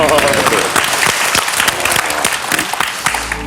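A crowd applauds steadily, with clapping continuing throughout and faint voices mixed in.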